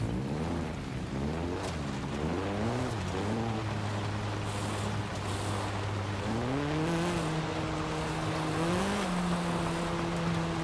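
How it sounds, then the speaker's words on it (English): A naturally aspirated 1997 Honda hatchback in Forza Horizon 5 revs with a high-pitched engine note, its pitch climbing and dropping through gear changes before holding steady, loud and continuous with no voices. "It's got the high-pitch Honda sound."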